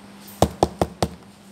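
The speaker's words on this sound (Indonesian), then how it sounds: "Tak lama kemudian serigala pun mengetuk pintu." A wooden cottage door is knocked four times in an even, deliberate rhythm as a storytelling sound effect, each knock sharp, close and loud against a quiet background hum.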